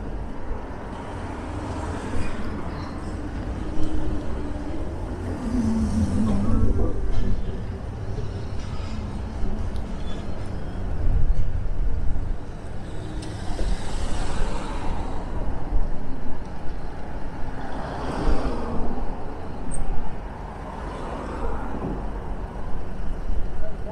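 Road traffic passes by near a Blackpool bingo hall, with cars and heavier vehicles swelling and fading one after another over a constant street rumble, and someone talking at times.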